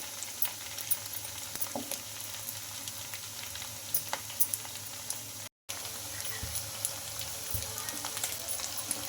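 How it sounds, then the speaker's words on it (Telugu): Ration rice breakfast snacks fry in hot oil until golden, a steady soft sizzle with scattered crackles and pops continuing throughout. "ఇలా బాగా కొంచెం గోల్డెన్ కలర్ అయితే ఫ్రై చేసుకోవాలి ఇంకా అటు ఇటు తిప్పుకుంటూ"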